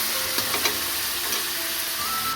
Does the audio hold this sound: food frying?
yes